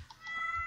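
A short, soft cat meow from the video game Stardew Valley, a single faint mew with a slight tonal rise, heard alone.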